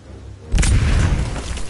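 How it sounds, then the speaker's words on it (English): A C4 charge detonates in Aliens: Dark Descent, a sudden loud boom after a quiet lead-in, its heavy low rumble lingering and slowly fading. "Planting C4."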